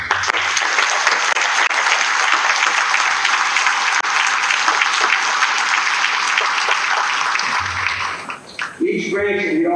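Loud, sustained applause from an audience at a hometown heroes event honoring committee members and academy cadets, a dense wall of clapping that holds steady for several seconds before tapering off as voices emerge at the end.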